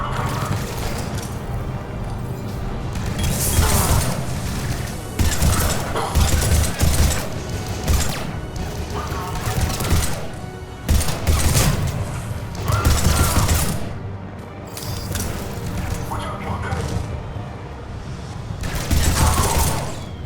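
Gunfire in a Mass Effect 3 battle, loud bursts of automatic fire and blasts recurring in waves over a dense, noisy combat backdrop for about twenty seconds.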